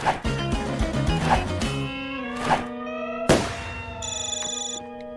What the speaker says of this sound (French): Allô, Angelo, je vous écoute?